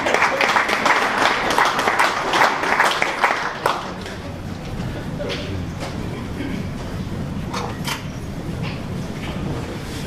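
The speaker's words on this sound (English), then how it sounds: "Give him a round of applause." An audience at a sports club's 50th anniversary speech night gives a round of applause that is brisk for nearly four seconds, then thins into scattered claps and room murmur.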